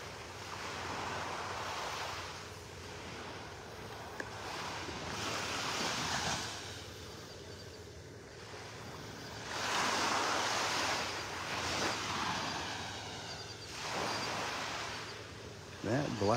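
Ocean waves wash onto a beach in North Naples, Florida, on a morning walk, with a steady roar of surf rising and falling in slow swells and some wind rumble on the microphone, at moderate distance.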